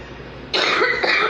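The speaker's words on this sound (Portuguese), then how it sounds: "Tô numa tosse." A harsh burst of coughing, close and loud, two rough hacks in quick succession with no talking.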